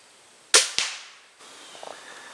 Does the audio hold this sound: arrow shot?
yes